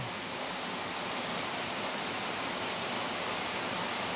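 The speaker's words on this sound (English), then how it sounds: "Proper rain." Heavy rain pours down at a carp fishing lake, a dense, loud, unbroken hiss that stays constant from start to finish with no talk.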